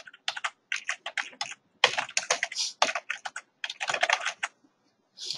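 Quick bursts of typing on a computer keyboard as a task name is entered in Visio, with short clustered keystrokes separated by brief pauses and no voices.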